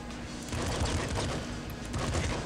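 Rapid, dense automatic fire from a machine gun in the Nuclear Throne video game, loud and continuous across a short burst with no speech over it.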